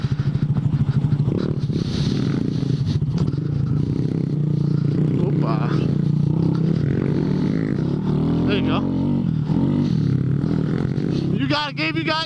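Honda Grom motorcycles off-roading through woods at Colliers Mills in Jackson, New Jersey, with a loud continuous engine drone and throttle surges rising and falling, while riders talk and call out over the noise.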